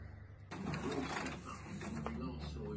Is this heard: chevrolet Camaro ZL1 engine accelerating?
no